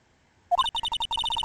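A phone redial in the Phoenix Wright: Ace Attorney video game: a quick burst of electronic keypad beeps in a fast, even rhythm, clear and close, with no voices.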